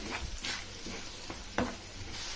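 Green chilli paste cooking in oil for a raw coconut curry, a faint low sizzle with a few soft stirring scrapes and one sharper knock of the spoon, close by and wordless.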